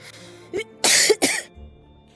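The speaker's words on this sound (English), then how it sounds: "I've been coughing quite a lot" A short burst of harsh coughing, two or three raspy hacks in quick succession, close and loud, with a quieter throat sound before.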